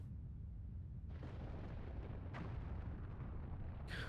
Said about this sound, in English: Okay, there's the explosion.